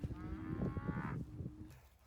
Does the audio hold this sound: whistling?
no